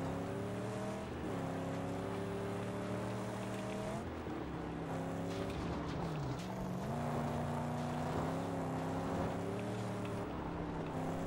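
Engines of cars in the video game Mad Max drone and rev loudly, pitch rising and sliding as they accelerate and shift, steady throughout with no talk.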